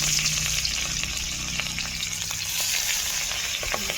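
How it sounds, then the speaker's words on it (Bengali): Fish fries in hot oil with a dense, steady crackling sizzle that stays loud and close throughout, occasional sharper pops standing out, and no voices. "মাছটাকে ভালো করে ভেজে নেব"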